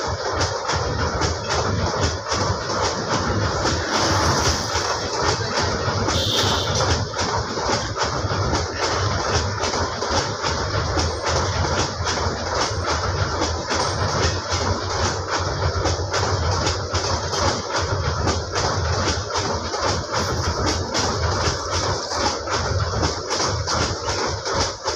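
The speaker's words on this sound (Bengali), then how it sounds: "আর সেই সাথে রেলের যে ঝকঝকাঝক শব্দটা খুব দারুণ লাগছে শুনতে।" A moving train crossing a bridge, a loud continuous rumble with a fast, rhythmic clickety-clack of wheels over rail joints lasting throughout.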